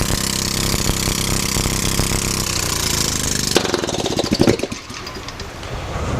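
A hydrogen-fueled engine runs steadily with a harsh, rattling roar that drops to a rougher, sputtering idle partway through, loud and close with no talking.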